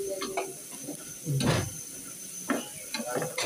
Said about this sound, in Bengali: এসে তো রসুন পেঁয়াজ দিয়ে ডাল বাগার দিচ্ছে